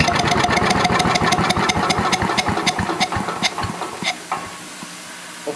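A Little Wonder walk-behind leaf blower's small engine runs with a loud, fast chugging beat that slows, sputters and dies away.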